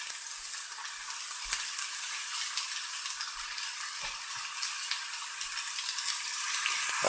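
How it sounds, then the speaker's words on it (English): Steak searing in a hot pan gives a steady, close sizzle that runs without a break, with a few soft stirring or shifting clicks and no voices. "I like to get a good sear onto it first, especially since I'm pan frying it"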